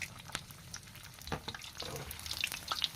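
Pork tail deep-frying in reused cooking oil, giving a steady close crackle and sizzle with scattered sharper pops and occasional utensil stirs.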